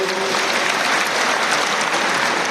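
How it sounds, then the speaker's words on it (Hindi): Loud, dense applause from a large crowd at a political party conference in India, steady and continuous throughout with no voices standing out. "एक बार जोरदार तालियां भी बजाओ उनके लिए"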